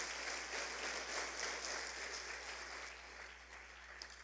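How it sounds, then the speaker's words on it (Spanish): A church congregation applauds, a steady wash of clapping with a low hum underneath, easing slightly toward the end. "Denle un aplauso al Señor"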